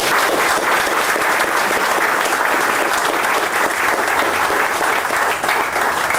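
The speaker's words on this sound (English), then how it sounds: "If ever there's a man who deserves a huge round of applause for rescuing a piece of history" Loud, steady applause from an audience at a Roadster Factory summer party, honouring Joe Richards, the owner of TS1, with sustained clapping throughout and no break.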